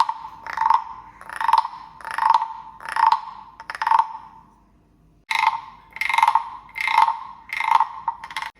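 A wooden frog rasp scraped with a stick, rhythmic ratcheting croaks repeated about nine times, with a short pause midway, close and loud.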